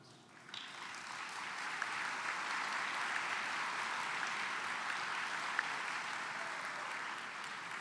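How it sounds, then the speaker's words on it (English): An audience at an awards luncheon breaks into sustained applause, with clapping that starts abruptly, swells and holds at an even level without talk. "Please raise your hands or stand and let's give them applause."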